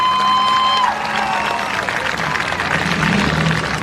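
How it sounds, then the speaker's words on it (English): Crowd applauding at a night truck and tractor pull in Lumberton, North Carolina, a loud, dense wash of clapping and cheering with a tonal whine fading early. "Ladies and gentlemen, give her a big round of applause"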